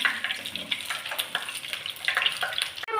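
Mussels spluttering and crackling as they fry in a hot pan, a dense hiss with scattered pops running throughout, fairly close and with no talk over it.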